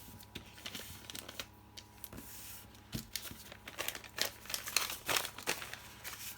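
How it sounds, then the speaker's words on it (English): Paper is folded in half lengthways by hand, with soft close crinkles, rustles and creasing swipes in irregular bursts, quiet and without talk, while making simple signatures for journal covers. "this one, might be quite nice to fold that in half"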